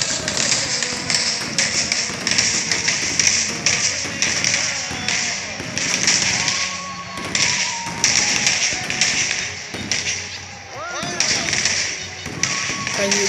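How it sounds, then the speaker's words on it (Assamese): Firecrackers burst at a Holi celebration at Agnishala Satra in a rapid string of sharp pops and cracks, some near and some farther off, with voices in the background. "বহুত বোমা ফুটিছে গাইছ।"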